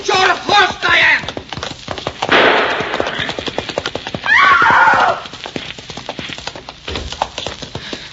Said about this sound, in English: If you don't stop, I'll shoot! I will shoot your horse, Diane!